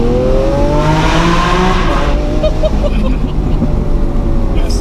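A Lamborghini Aventador S engine roars loud and close, its pitch sweeping up and down through throttle blips, with a voice briefly heard over the revving.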